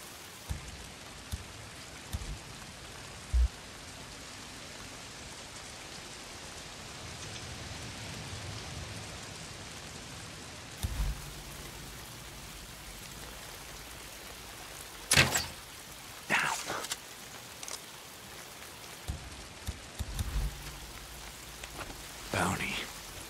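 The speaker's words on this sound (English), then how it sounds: "If it's not the freaks, it's the goddamn rain. Why is it always raining?" Steady rainfall from the video game Days Gone hisses throughout, with a few brief thumps and knocks rising above the constant wash.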